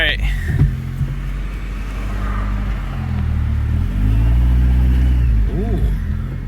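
A car engine with an intake leak idles and then revs slightly, a loud close rumble with uneven pitch, while people talk over it.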